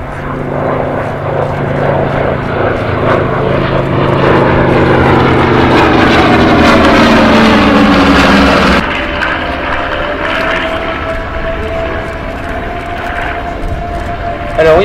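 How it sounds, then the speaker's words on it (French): Three WWII warbird propeller aircraft from the Pacific war fly past at an air show, a loud droning engine roar whose pitch shifts as they pass close by, then it eases into a steadier, lower hum. "ces trois avions, ces trois vestiges de la bataille du Pacifique se présentent sur votre gauche."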